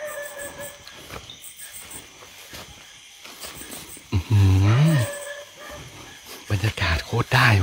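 In a forest at night near an abandoned old mansion, a dog gives a few loud, drawn-out barks and yelps in the second half, over a hissing background of insects and crickets.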